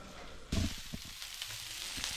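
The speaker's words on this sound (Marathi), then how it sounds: "इकडे मच्छी फ्राय होते ही बघा" Fish frying in a pan gives a steady sizzle with a louder burst of crackle partway through, close and alone without talk.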